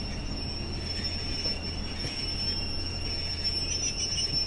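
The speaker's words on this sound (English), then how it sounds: "We are arriving in the station a little later than planned, but it's okay." Train in Train Sim World 4 on a West Cornwall local service pulls into a station, a steady loud rumble of rolling stock with a high thin wheel squeal held throughout, no talk.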